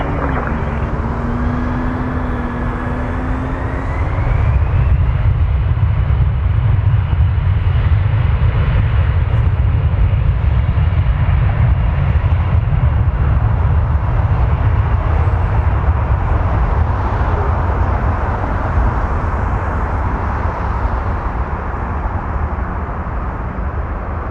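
Airliner taking off at Toronto Pearson airport at night, a loud sustained jet engine roar that swells after a few seconds and holds steady, with a faint rising whine early on.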